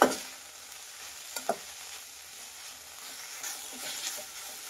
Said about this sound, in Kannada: ಒಂದು 1/4 ಹಿಡಿಯಷ್ಟು ಕೊತ್ತಂಬರಿ ಸೊಪ್ಪು ಹಾಕ್ತಾ ಇದ್ದೀನಿ. ನೋಡಿ, ಇದನ್ನೆಲ್ಲ ಕ್ಲೀನಾಗಿ ಹುರಿಬೇಕಾಗುತ್ತೆ.